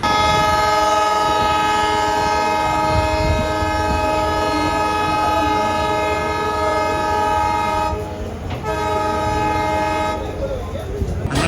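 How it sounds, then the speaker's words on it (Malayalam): The Rameswaram–Tambaram Express departs Rameswaram on its inaugural run over the new Pamban Bridge, its horn blaring loud and continuous for over ten seconds above the rumble of the train, dropping briefly near the end. "വർഷങ്ങൾക്ക് ശേഷം രാമേശ്വരത്ത് നിന്ന് ഒരു ട്രെയിൻ പുറപ്പെടുകയാണ്"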